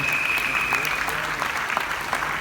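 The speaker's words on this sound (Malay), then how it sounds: "Tepukan untuk semua Diamond." Steady applause from an audience at an Amway business event, dense and continuous throughout without pause, with a faint tonal whine running underneath early on.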